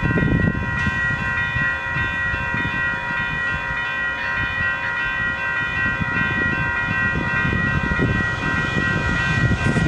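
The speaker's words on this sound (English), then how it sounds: "That was just a commuter train." A commuter train near Denver passes close by with a sustained, even roar, steady high ringing tones laid over the rolling rumble throughout.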